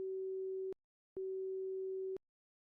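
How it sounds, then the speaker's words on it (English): Telephone tone in the horror video game Corpse Party, a pure steady beep pulsing in two long, even bursts separated by a short silence, clean and alone. "Dial tone."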